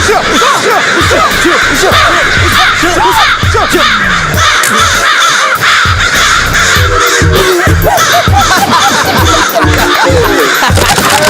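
A flock of crows caws loudly and continuously near a car, many overlapping harsh calls crowding together with no pause.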